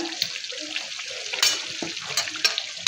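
A spice paste with ground soaked almonds and coriander powder fries in a pan for chicken korma, giving a soft crackling sizzle with scraping stirs and small wet clicks.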